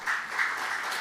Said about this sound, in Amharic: ስለ ራሳቸው አጨብጭቡ አባቶች